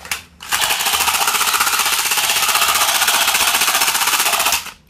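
Rapid mechanical fire from a Captain America toy pistol rattles continuously for several seconds, loud and close, in one sustained burst.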